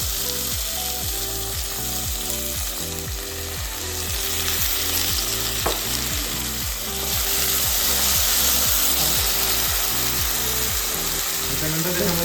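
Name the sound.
chilies being sautéed, sizzling in a pan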